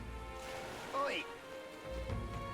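Soft, steady rain patter in the video game Metaphor: ReFantazio, a faint hiss under a brief swooping tonal effect in the middle.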